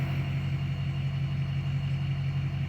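A car engine idles steadily at close range, a low droning hum with a slight waver in its pitch as the revs fluctuate a little, with no voices over it.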